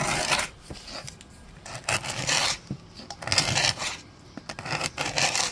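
A sharpened scraper drags over layered old paint on a wooden baseboard, short close rasping strokes separated by brief pauses.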